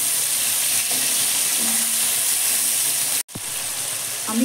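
Tomato with salt frying among spices in a pan for a vegetarian soybean curry, giving a steady close sizzle that runs unbroken, briefly cut near the end before resuming.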